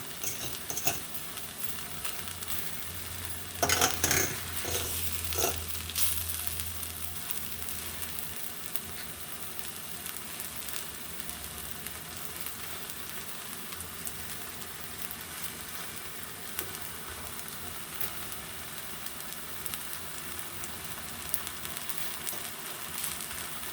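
Yellow vegetable rice popping and sizzling in a pan, a continuous crackling fry with a louder clatter of stirring early on, then steady fine popping without voices.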